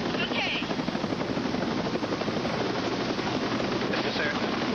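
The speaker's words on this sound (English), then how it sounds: "Palmer was loaded into the chopper" Medical evacuation helicopter in flight, its steady rotor and engine roar filling the whole clip at close range with a dense, constant drone and no clear gaps.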